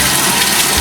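Tap water gushes from a faucet over cut tropical flowers such as dendrobium orchids, a steady, loud, close rush of running water with no voices.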